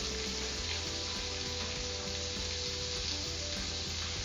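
Seafood pieces for a stew sizzle in a pan, a quiet, steady frying hiss with a faint low hum underneath, continuous and unbroken.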